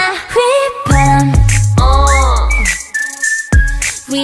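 A bright whistled melody with sliding pitches from a song, rising and holding notes over a pulsing musical backing.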